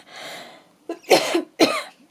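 A person coughing indoors: a soft breathy exhale, then two sharp, close coughs in quick succession with no talking.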